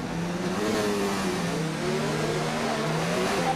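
A Formula 1 car engine in F1 2019 revs steadily on the formation lap, a continuous high whining drone with gently wavering pitch, alone and close.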